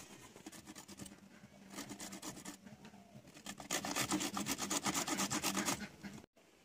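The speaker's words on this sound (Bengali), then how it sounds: "এক টুকরো আদা এর মধ্যে একটু ঘষে নেবেন" Ginger and green chillies rubbed on a hand grater for a bottle gourd kofta curry: rapid, close, rhythmic scraping strokes that grow louder and denser midway, then stop abruptly.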